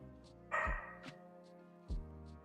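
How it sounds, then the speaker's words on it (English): A dog gives two separate barks about a second and a half apart, close and fairly loud, with faint background hum between them. "Can you hear her barks?"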